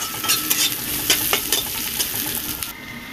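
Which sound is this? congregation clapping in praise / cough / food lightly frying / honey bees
food lightly frying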